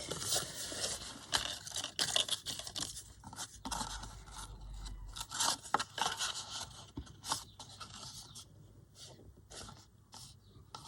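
Scissors cut through cardboard packaging for a mini junk journal, producing a steady run of close scraping snips and crinkles with short pauses between cuts.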